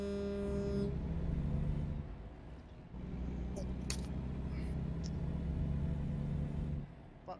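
A truck's diesel engine in American Truck Simulator drones steadily, dropping pitch and then rising again as it shifts down through gears, a low rumble lasting several seconds with brief clicks over it.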